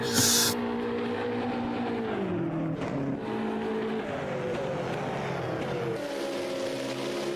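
Several race cars roll out onto the track together at Monza during a 12-hour event practice session, their engines droning steadily with pitch shifts as they accelerate and change gear, with no talk over them.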